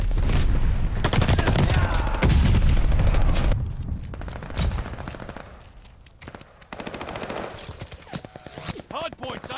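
Rapid machine-gun bursts and scattered gunshots from a Call of Duty Vanguard hardpoint match, loud and dense early, then thinning into intermittent fire.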